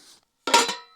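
A metal pot of potatoes sets down on a methylated spirit camping stove with one short, bright clank that rings briefly and fades.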